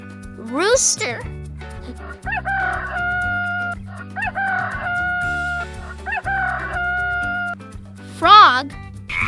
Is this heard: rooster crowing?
yes